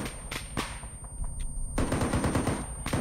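Video game gunfire in the squad shooter Mortar Squad hits the players, with loud close bursts of rapid automatic shots and a pause between volleys.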